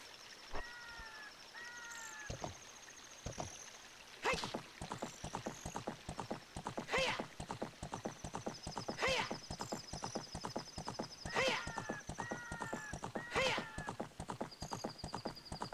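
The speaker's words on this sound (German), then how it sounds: "Das Pferd muss ein kleines bisschen schneller werden." Horse hooves clip-clop in a steady galloping rhythm in The Legend of Zelda: Ocarina of Time, broken by several short whinnies, with brief game chimes and a faint water sound underneath.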